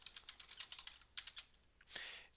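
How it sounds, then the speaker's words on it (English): Quick, quiet clicks of typing code on a computer keyboard, a rapid run of keystrokes followed by a few slower taps and a final press. "So first we're going to do that by typing"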